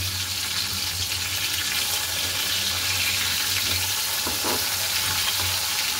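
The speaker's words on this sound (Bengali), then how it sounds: "মশলা কষাচ্ছি মাছের জন্য" Spices sizzling and frying in oil in a pan for fish curry, a continuous close, steady crackle with occasional stirring, no talk.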